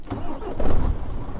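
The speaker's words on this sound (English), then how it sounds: "I have to start the truck, that'll help." A truck engine in Euro Truck Simulator 2 cranks and catches, a low rumbling surge building up then settling into a steady idle.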